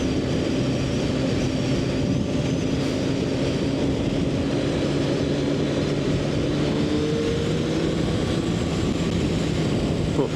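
A 22-year-old motorcycle's engine drones steadily throughout a ride, a loud, continuous low hum layered with wind rush and no clear breaks.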